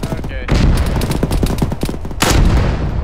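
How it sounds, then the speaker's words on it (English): Mortar fire in Arma 3 lands as heavy booms at the start and again near the end, with a rapid crackle of gunfire filling the gap between them. The whole passage is loud and close. "Maybe they're friendly mortars."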